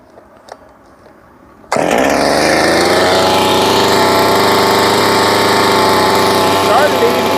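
Craftsman (Solo 651sp) 51cc gas chainsaw catching after a few quiet knocks, then running loud and close at a steady high-pitched idle that continues to the end.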